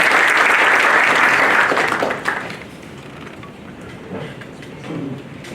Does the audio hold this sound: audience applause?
yes